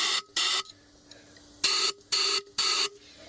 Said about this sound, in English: I'm just going to use a little bit of compressed air here.